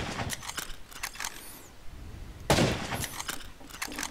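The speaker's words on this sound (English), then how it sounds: "Bolt action means you have to reload it after each shot" Bolt-action rifle fired in the survival game Rust: two sharp, loud reports about two seconds apart, each followed by a short decaying tail, with faint clicks and handling noise between the shots and no talking.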